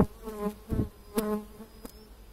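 Honey bees droning inside an opened beehive during a colony inspection, acacia in bloom nearby: a close, steady harmonic buzz with a few sharp clicks and knocks from handling the hive.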